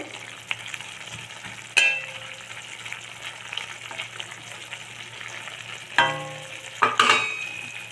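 A pot of goddu pitlai, a salted Tamil lentil-vegetable curry, bubbling and sizzling in a steady hiss, with a few sharp clinks of a utensil against the pot.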